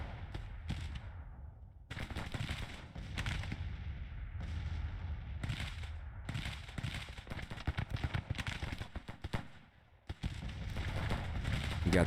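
Artillery fire in the Civil War strategy game Grand Tactician: repeated booming cannon shots and crackling volleys at varying distance, some overlapping, forming a continuous battle din with brief lulls.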